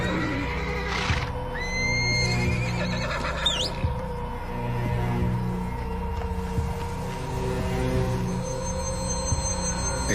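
A terrified mare lets out a high, shaky whinny early on, followed by a broken, wavering neigh, over a low steady hum and occasional hoof clip-clops.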